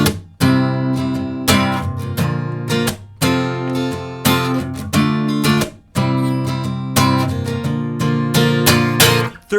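Strummed acoustic guitar plays the bridge of a song, steady rhythmic chord strokes with brief pauses between phrases, loud and close with no voice.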